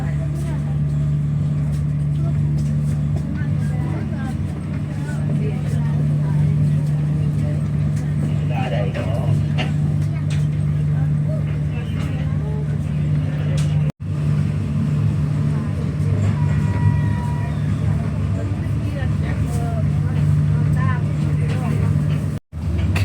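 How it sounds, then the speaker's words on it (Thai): Laos-China Railway train running just after leaving Kasi station, a steady low rumble and hum of the moving train with a constant drone inside the carriage, under a passenger announcement and people talking. "ขณะนี้ขบวนรถไฟได้ออกจากสถานีกาสีแล้ว"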